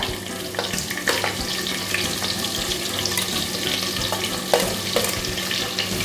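Raw onion dropped into hot oil with cumin seeds for a soya chunks biryani, a dense continuous sizzle with light stirring scrapes and scattered clicks, close and fairly loud, without talk.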